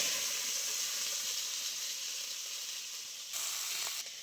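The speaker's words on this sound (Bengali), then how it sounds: "প্রথমে খুব ভালো করে আলুটা ভেজে নিতে হবে আলুটা আমি দিয়ে দিচ্ছি তেলের মধ্যে" Potatoes dropped into hot oil sizzle and hiss loudly and steadily at close range, a constant bright frying crackle with a brief surge near the end.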